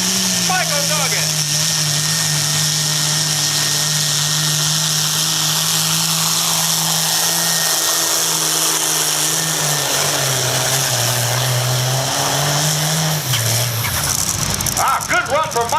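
A four-wheel drive pulling truck at a tractor pull runs its engine at a loud, sustained roar, holding a steady high pitch that dips and wavers near the end as the run winds down.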